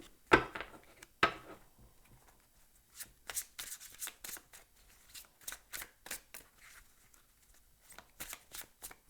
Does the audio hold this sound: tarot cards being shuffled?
yes